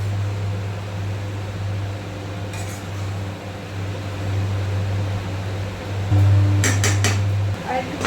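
A metal lid is set on a cooking pot of ash gourd with coconut and sugar, a short clatter and a few bright clinks near the end over a steady low cooker hum.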